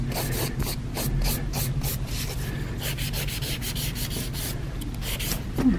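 A nail file rasps back and forth across a fingernail in quick, even, close-up strokes that repeat steadily throughout, with no speech.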